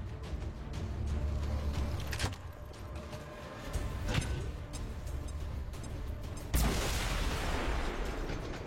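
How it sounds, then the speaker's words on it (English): A grenade goes off in a video game: a sharp, loud blast with a broad burst of noise that rings out and decays over a few seconds, following a couple of brief thuds amid continuous low battle rumble. "let's take out his cover with a grenade"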